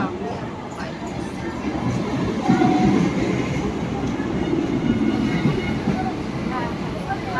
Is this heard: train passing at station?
yes